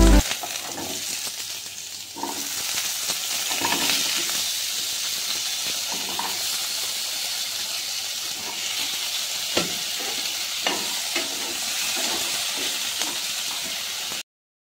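Vegetables for khichuri fry in a pan with a constant, close sizzle and hiss. Scattered clinks and scrapes of stirring recur throughout before the sound cuts off abruptly.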